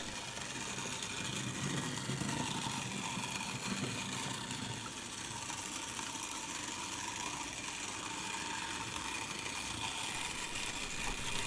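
An old Stewart Reidpath mechanism model locomotive motor runs with a steady, quiet mechanical hum and whirr, faint and continuous.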